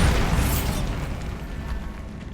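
A Bombarda spell blast from the video game Hogwarts Legacy: a loud, broad burst at the start that fades into a rumbling decay over about two seconds, with no talk.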